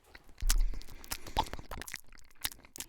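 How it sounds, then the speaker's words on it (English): Close-up wet mouth sounds: scattered clicks, pops and lip smacks in irregular bursts, with no speech. "pretty much almost all non-water beverages are going to give you mouth noise, clicking and popping and lip smacking sounds."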